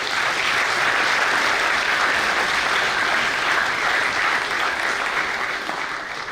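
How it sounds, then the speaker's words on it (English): A crowd at a university frosh orientation gives a presenter a sustained round of applause, a dense, steady wash of many hands clapping at even loudness throughout. "please give another round of applause for Alok"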